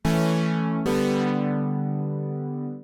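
Layered Prophet-5 synth chord with a soft DX7 electric piano tone underneath, struck twice in quick succession and sustained evenly until the clip ends.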